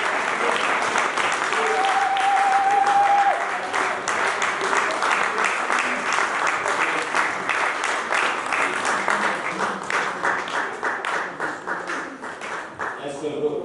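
A church congregation at a French-language sermon applauds and cheers, sustained loud clapping with voices rising over it, slowly thinning toward the end.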